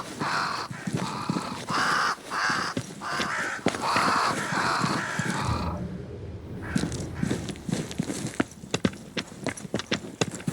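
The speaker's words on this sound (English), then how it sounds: "Crows. They flock to that great tree up there." Crows cawing near a great tree in the video game Banishers: Ghosts of New Eden, a run of loud, evenly spaced caws close by, followed by hoof-like clopping and scattered clatter.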